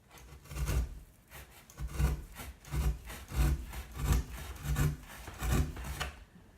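Wooden shelf pieces are cut by hand with rhythmic back-and-forth sawing strokes, about eight even rasping passes close by, one roughly every second.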